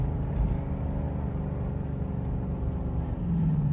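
A catless Dodge Durango RT engine drones low and steady in a downshift to second gear, its rumble rising slightly near the end, with no talk over it.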